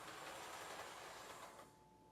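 A model train locomotive runs along its track, a faint, steady rolling whir with soft clicking that eases slightly toward the end, with no voices.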